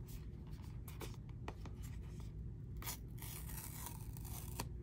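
Crisp paper and plastic scraping, tearing and rustling at close range as iPhone 14 Pro Max Space Black packaging is opened, with short sharp pulls amid steady handling noise.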